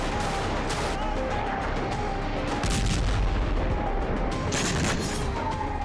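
War footage from a news report on bombing of rebel positions in Syria, with dense, continuous rumbling blasts and crackling gunfire-like bursts throughout, loud and sustained, one heavier swell partway through.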